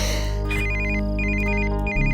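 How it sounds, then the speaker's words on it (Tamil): A phone ringtone chirps in repeated bursts over a steady low hum in an indoor film scene, loud and close, with no talk over it. "ஏய் ஃபோன்"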